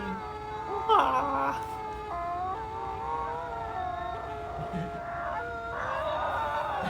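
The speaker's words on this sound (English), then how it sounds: "There's the husky sound." A husky howls in long, wavering, drawn-out tones that rise and bend, in two main stretches over a low background, with a brief human exclamation near the start.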